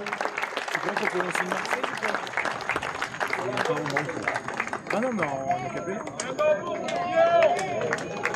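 Audience applause at a public gift ceremony, clapping mixed with crowd murmur and a voice speaking over it, with some tonal music or voices emerging toward the end.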